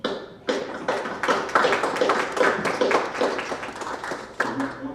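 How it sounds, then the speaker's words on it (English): A short round of applause breaks out at a board meeting, with several people clapping at once, dense and fairly close, for about five seconds before it fades. "I'll give you a round of applause"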